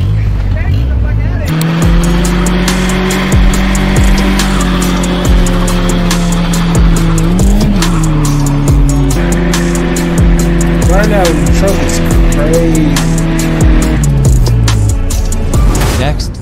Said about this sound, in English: I'm gonna do a little burnout.